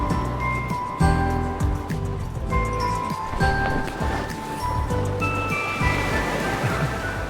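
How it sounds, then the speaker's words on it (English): Ocean surf from the video game Love and Deepspace, a steady wash of breaking waves under layered music and tonal effects, continuous and fairly loud throughout. "The waves here."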